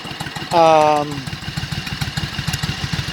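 A motorcycle engine idles close by with a steady, lumpy pulsing thud, joined briefly near the start by a sustained tonal sound that slides downward.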